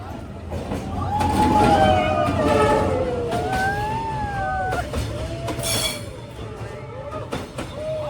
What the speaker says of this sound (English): let you hear the iconic sound of the train passing by so close to where my family was eating